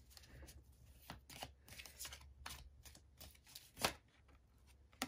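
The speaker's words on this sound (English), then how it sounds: "I'm just going to divide this up in three because it is a very thick deck" A thick tarot deck is split into three piles, with close, crisp riffling and card-slapping noises in irregular bursts and one sharper snap near the end.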